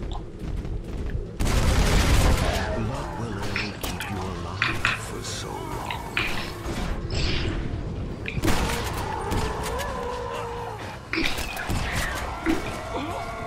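Gunshots from Red Dead Redemption crack in scattered bursts and booms through a busy game soundscape, loud and irregular, with voices talking in between.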